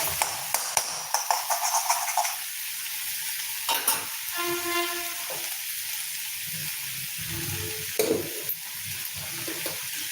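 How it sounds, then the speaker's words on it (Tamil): Lachakottai greens with egg stirred in a frying pan, a steady sizzle with repeated scraping strokes near the start and later, some faint ringing tones in the middle. "நல்லா உப்பு போட்டு கிளறிக்கிட்டேன் கிளறிட்டு இந்த மாதிரி கீரையை இப்படி விளக்கி விட்டுருவோம்"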